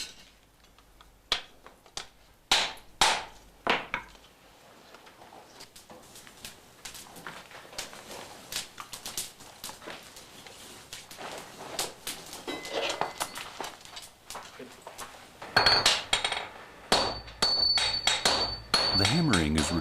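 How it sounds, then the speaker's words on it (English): Heavy 10-kilo hammers striking red-hot tamahagane steel on an anvil at a Japanese swordsmith's forge, a series of loud sharp blows in uneven rhythm with lighter taps and clinks between. "holds it on the anvil while his disciples hammer it flat"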